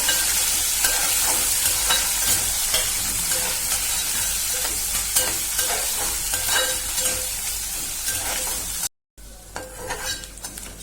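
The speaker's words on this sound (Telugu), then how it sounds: "ఇందులోనే కడిగి పెట్టుకున్న ఎండురాయిని కూడా వేసేసుకున్నాను ఇప్పుడు బాగా ఫ్రై చేసుకోవాలి" Washed dried prawns fry in a pan for a curry, with a loud, steady, close sizzle and occasional stirring scrapes; the sound cuts out briefly near the end, then returns quieter.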